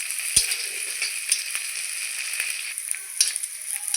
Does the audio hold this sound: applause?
no